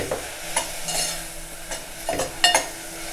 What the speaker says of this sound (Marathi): जरा गॅस मीडियमवर ठेवून जरा कांदा आणि टोमॅटो आपण मऊ करून घेऊया।